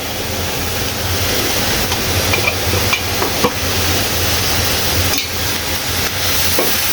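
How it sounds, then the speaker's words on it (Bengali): Chili powder and turmeric sizzle in hot oil in a pan as the spices are fried down. A loud, close, continuous frying hiss carries on throughout, with occasional stirring scrapes and no talking. "একদম ভাজা ভাজা করে কষিয়ে নিতে হবে।"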